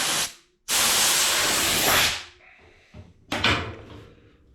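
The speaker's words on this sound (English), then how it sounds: "Watch hitting the sprocket with the air." Compressed air blasts onto a chainsaw sprocket in a loud, close hissing rush: a short burst, a longer sustained blow of over a second, then a fainter spin-down and another brief blast.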